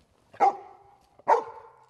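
A trained search and rescue dog barks twice, two sharp, close, loud barks about a second apart, each ringing briefly afterward, with nothing else heard.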